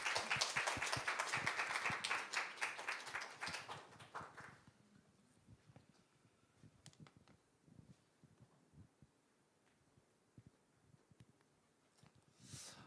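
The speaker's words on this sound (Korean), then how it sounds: "감사의 박수, 환영의 박수" A church congregation applauds loudly for a few seconds in welcome of a pastor, then the clapping thins out and fades to scattered claps and quiet room sound.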